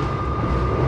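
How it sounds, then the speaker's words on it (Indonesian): Argo Lawu passenger train heard from inside the cabin: a steady, fairly loud broadband rumble of wheels and running gear, with no voices. "suara bising yang lumayan ya masuk ke dalam kabin"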